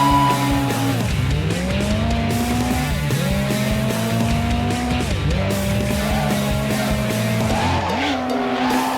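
Video game car drifting through repeated D1-style slides, engine revs rising and falling with loud, continuous tire squeal over several sweeping turns, no talking.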